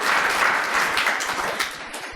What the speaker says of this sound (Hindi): इसके लिए तो ताली बनती है भाई इस बच्चे के लिए